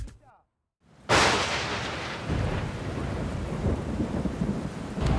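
A thunderstorm at an outdoor plaza in Houston: a sudden loud thunderclap bursts in, then rumbles on under a steady roar of heavy rain.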